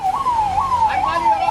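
An emergency siren responding to a blast in Kanpur wails loudly and close by in steady rising and falling sweeps, with faint traffic rumble underneath.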